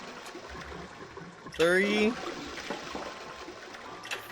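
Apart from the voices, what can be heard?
toilet flushing in video game 9 Hours 9 Persons 9 Doors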